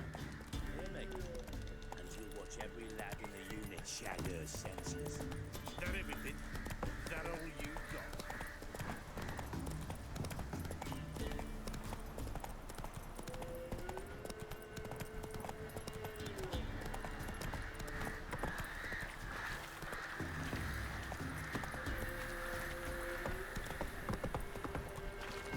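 Hooves of the horse Roach clip-clop steadily at a gallop in the video game Witcher 3, with a brief neigh, under game music and a talking voice.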